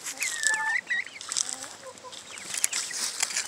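Several young, nearly fully feathered chickens cluck and chirp close by in a busy, overlapping chorus of short calls, with no voices.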